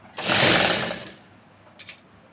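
A sewing machine stitching a suit runs in one steady burst of about a second, then drops to a low hum with a brief rattle near the end; no one speaks.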